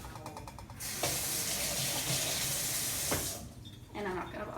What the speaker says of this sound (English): And rinse my hands off.